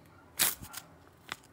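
Small plastic packet of ice cream being torn open, a sharp crinkling rip followed by a couple of quieter crackles, close up and with no talking.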